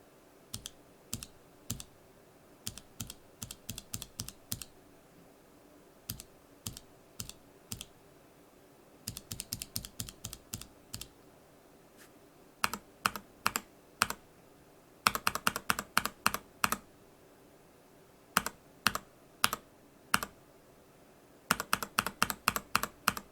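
Gateron Yellow KS-3 keyboard switches are pressed in irregular bursts of crisp, close clicks, first without keycaps and then with them on, in a quiet room with no talking.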